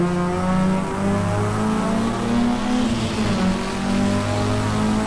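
A race car at Road America accelerating on throttle through a corner, loud close engine with a rising, sustained harmonic whine and steady power, no talk.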